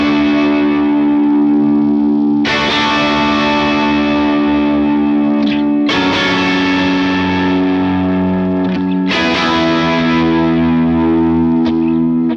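Heavily distorted electric guitar strikes root-5 barre chords for a worship song bridge, three big sustained hits left ringing with chorus and echo, loud and alone.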